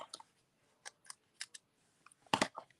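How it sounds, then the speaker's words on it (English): Scissors snip and trim a strip of paper for a stamped card project: a quick series of crisp, close cuts with short pauses, ending in a louder cluster of snips against a quiet background. "Oops, that one's too long. I have to trim that."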